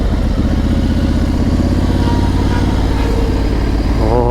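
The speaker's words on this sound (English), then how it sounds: "Oh, I can hear the bikes." Motorcycles at the Assen TT roar steadily and loudly throughout, a dense continuous engine drone with rising pitch near the end as the bikes shift and accelerate.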